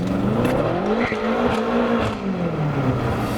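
A BMW F10 M5 accelerates hard in first gear with its wheels spinning, the engine note rising and wavering under load and the tires scrabbling, heard loud and close with no speech.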